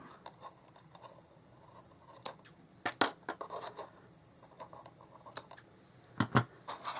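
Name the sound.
scissors cutting off the tails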